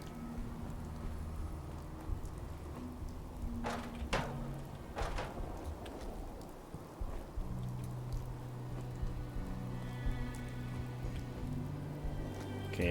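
Rain falls steadily in a video game, a soft continuous patter under quiet ambient music and a few faint clanks.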